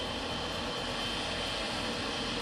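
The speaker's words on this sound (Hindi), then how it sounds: "प्रधानमंत्री नरेंद्र मोदी का विमान इजराइल में लैंड कर चुका है" Prime Minister Modi's plane landing in Israel, a loud continuous jet engine roar with broad airy hiss, steady and close throughout.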